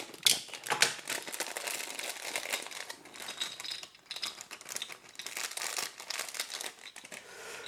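Lego Dimensions starter pack for Wii U being unboxed: close, steady crinkling and rustling of plastic packaging with small crackles and tearing sounds, no talking.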